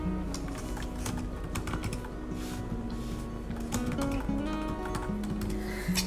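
Typing on a computer keyboard while writing a social media caption, a steady run of quick key clicks lasting several seconds under a faint background hum, with no talking.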